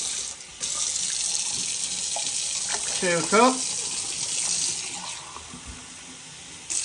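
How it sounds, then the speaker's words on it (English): Water runs steadily from a tap into a Makita 36V cordless kettle, a broad continuous splashing rush that fills the whole clip, briefly interrupted as a person speaks over it. "So we'll get a tap going."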